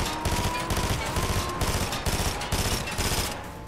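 Rapid sniper and automatic gunfire from Fortnite, dense overlapping shots crackling nonstop at close range with no talk over it.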